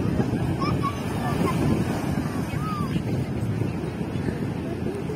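Sea waves wash onto the shore at Odesa in a continuous roar, mixed with wind buffeting the microphone and faint voices in the background.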